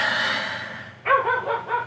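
A dog barks outdoors in a cold, snowy RV campsite, giving a quick run of four close, sharp barks after a stretch of breathy noise, with no talking.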